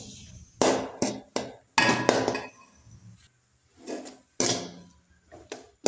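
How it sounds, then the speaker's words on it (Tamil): A spoon stirring white rice into boiled lemon juice in a pot, with irregular loud metallic scrapes and clinks in short bursts separated by quiet gaps. "இப்போ வந்து நம்ம சாப்பாட்டை போட்டு இதில் கிளறிடலாம்"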